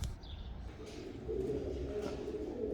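Pigeons coo softly in an indoor loft, a low steady murmur of several birds under faint background noise, with a brief higher chirp early on.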